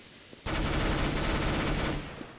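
A decoy grenade in the Counter-Strike video game fires a rapid burst of fake gunfire for about a second and a half, loud and continuous, then cuts off into quiet background.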